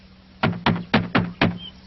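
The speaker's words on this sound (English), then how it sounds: "Let's knock at the door." Five firm knocks rap on a wooden cottage door in an animated Pinocchio film, evenly spaced and close, each a sharp thud with a short ring, with no voices over them.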